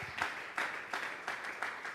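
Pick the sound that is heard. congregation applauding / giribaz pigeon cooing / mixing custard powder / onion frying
congregation applauding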